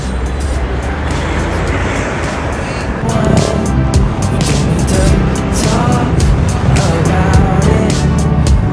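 Road traffic heard from a vehicle on a short ride to Calamba Baywalk: a steady, close wash of engine and tire rumble that grows slightly louder partway through and stays continuous.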